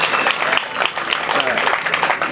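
An audience at a Hindi poetry gathering in a township hall claps steadily, a dense, loud burst of applause filling the whole moment with crowd murmur beneath.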